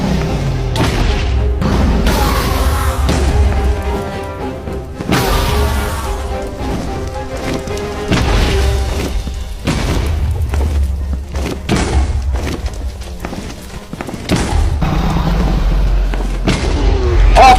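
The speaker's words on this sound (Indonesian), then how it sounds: "lalu meledakkan kasurnya pas di bawah naga buat ngasih damage yang besar" Beds exploding under the Ender Dragon in Minecraft produce repeated loud booming blasts and heavy thuds in irregular succession, layered over game sounds and music.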